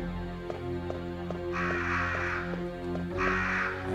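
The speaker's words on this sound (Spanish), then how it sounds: "Los cuervos salen si la cagas en el orden" Crows cawing in the PS1 Resident Evil video game, two harsh, extended bursts of cawing over a steady, droning game soundtrack with soft rhythmic ticks.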